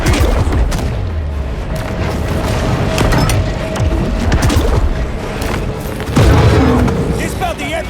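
Deep booming torpedo blasts in the shark video game Maneater roll through a loud, busy underwater soundscape, with repeated thuds and a heavier surge near the end, a voice speaking over parts.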